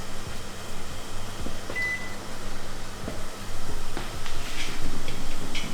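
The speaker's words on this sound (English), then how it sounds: "So now I'm gonna put the broccoli in the microwave for, let's say," A microwave oven hums steadily with a low mechanical drone, a short beep near the start and faint clatter along the way.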